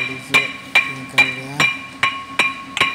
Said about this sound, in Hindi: हथौड़ी मार